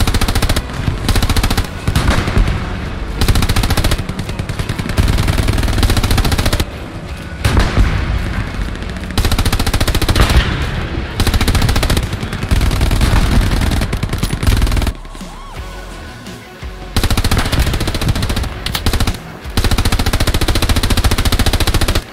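Long bursts of German machine-gun fire in the World War II shooter game Hell Let Loose, loud and close, broken by brief pauses between volleys.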